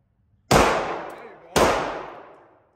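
Two sharp, loud handgun shots with live ammunition at a shooting range in the US, about a second apart, each with a sharp crack and a long echoing decay, nearby.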